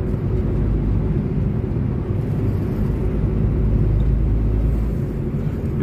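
City traffic in central Cuiabá heard from inside a moving car, a steady loud low engine and road rumble with no voices.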